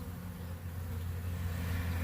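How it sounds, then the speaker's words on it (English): Angry honey bees in a mating nuc swarming and balling around their queen, a steady dense buzzing drone close by, loud and unbroken with no talking. "Bees are mad."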